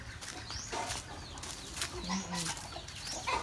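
Chickens cluck quietly inside their coop, scattered soft calls and some wing rustling, faint and close, with no talk over them.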